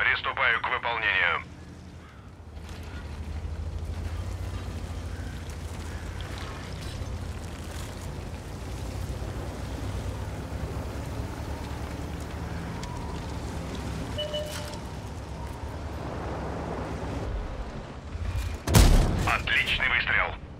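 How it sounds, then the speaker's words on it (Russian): A single loud cannon blast bursts out near the end of a naval battle in the video game Steel Hunter, with the ship Varyag, over a steady rumbling engine and sea background. "Отличный выстрел."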